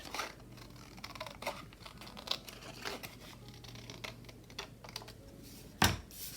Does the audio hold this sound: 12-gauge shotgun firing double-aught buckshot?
no